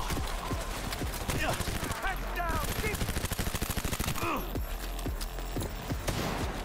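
Rapid automatic gunfire rattles through a Cyberpunk 2077 firefight, dense volleys of close, loud shots with a brief burst of sweeping weapon whines, the shooting continuing almost without pause.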